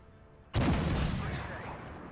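A tank shell slamming into armor in the video game Armoured Warfare, heard as one sudden loud metallic impact followed by a long, slowly fading rumbling decay.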